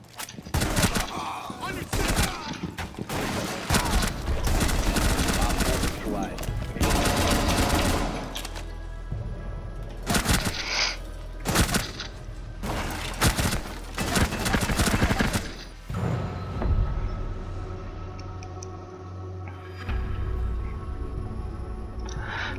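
Rainbow Six Siege gunfire erupts in loud rapid automatic bursts with single shots and crashing impacts, several separate volleys across the stretch, then quieter game ambience near the end.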